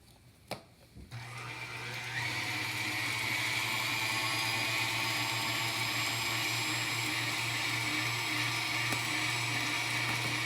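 An electric mixer whirs steadily as it mixes cookie dough, starting after a brief clatter and then holding a loud, even hum throughout with no talking.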